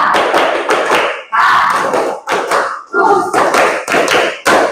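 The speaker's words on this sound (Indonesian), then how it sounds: "Mantap, tepuk tangan." A classroom of students claps their hands in short bursts separated by brief pauses, loud and close, following a rhythmic clapping pattern with no talking.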